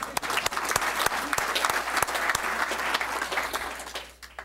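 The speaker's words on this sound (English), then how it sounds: "His mom's here though, so we can clap." An audience at a St. Louis Park school board meeting in 2013 gives a sustained round of applause, with crisp individual claps over a steady patter, fading out toward the end.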